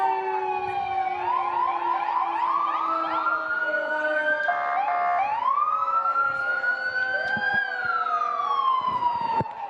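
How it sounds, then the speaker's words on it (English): Several police and fire vehicle sirens wail at once at a parade, rising and falling in overlapping sweeps, loud and close, with a yelp pattern cutting in briefly. "if you can hear the sirens of both our police officers and even more"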